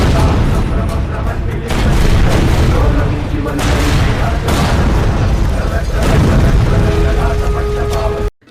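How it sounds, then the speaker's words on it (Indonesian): A gas station blowing up in an action film, heard as a continuous loud, rumbling roar of explosion and booming blasts lasting several seconds before cutting off abruptly. "Beberapa saat kemudian, pom bensin itu meledak."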